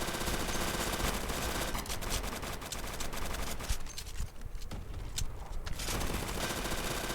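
Dense, sustained rapid gunfire during a boss fight in the video game Zombie Uprising, loud and continuous throughout with bursts of shooting and explosions layered together.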